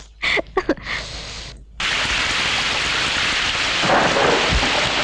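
Heavy rain in a thunderstorm, a dense steady roar of downpour that starts suddenly after a few brief sounds and stays loud, with a low rumble of thunder swelling underneath near the end.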